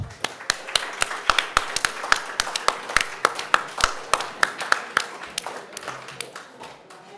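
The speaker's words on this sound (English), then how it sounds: "He always gets a huge round of applause when he comes to collect his prize" Applause at a chess prize-giving for French grandmaster Maxime Vachier-Lagrave as he collects his prize: steady, fairly sparse claps from a modest crowd, individual hand strikes distinct and evenly spaced, continuing for several seconds without speech.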